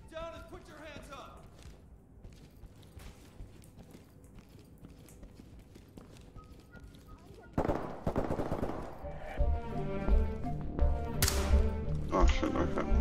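Gunfire in the tactical shooter Ready or Not: quiet tapping and movement give way to a loud burst of shots, then more heavy firing and rumbling toward the end, with voices talking over the action.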